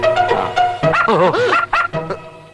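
A dog yelps and barks in several short bursts close by, its cries rising and bending in pitch like whines, during a comedy film scene.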